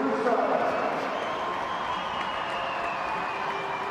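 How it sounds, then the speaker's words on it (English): A stadium crowd at the Riverside applauds steadily as a player is substituted during the England vs Canada women's football match, with a commentator talking over the broad, even clapping. "And a fine greeting from the crowd here at the Riverside"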